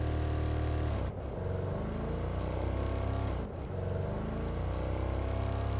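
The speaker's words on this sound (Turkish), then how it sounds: "Araba geliyor lan." A car approaching in the video game Ghost Recon Breakpoint, a loud, continuous engine drone with a steady low hum that dips briefly twice, close and alone.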